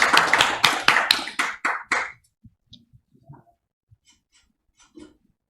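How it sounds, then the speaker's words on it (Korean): At an academic society's autumn conference award ceremony in Korea, a small group claps in a quick, even rhythm, about nine crisp claps over two seconds, then stops, leaving near silence with a few faint taps and rustles. "다시 한번 큰 박수로 다시"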